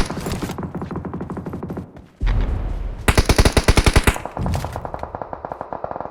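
Video game gunfire: rapid automatic bursts with sharp echoing shots, including a fast stuttering machine-gun run, loud and near.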